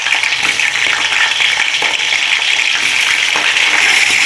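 A kilo of chicken pieces frying in a pot with browned onions gives a loud, steady, close sizzle that hisses continuously without pause or speech.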